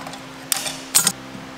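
A metal clamp is squeezed and released while the compressor housing comes off a Holset HX35 turbocharger, giving two short, close, sharp mechanical clicks and scrapes with quiet pauses around them.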